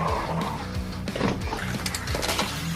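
Hot Wheels diecast toy cars race down a track and wreck, giving rapid plastic-and-metal rattles and clatter with a small crash, close and busy throughout.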